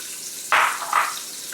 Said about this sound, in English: I'm going to be adding in some red onions